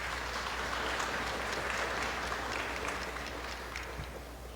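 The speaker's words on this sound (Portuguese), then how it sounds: "vamos acolhê-lo com uma salva de palmas" A church congregation claps together at Mass, a dense, even wash of applause that carries on steadily and eases off slightly toward the end.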